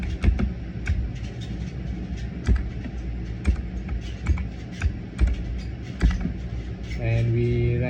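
Keys on a computer keyboard tapped in an irregular run of sharp clicks over a low steady hum, ending in a sustained tonal buzz near the end.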